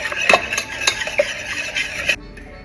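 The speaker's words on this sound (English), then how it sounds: "It says whisk until there are no lumps." Honeycake batter with baking soda is whisked in a bowl, a steady run of light clinks and scrapes that stops abruptly near the end.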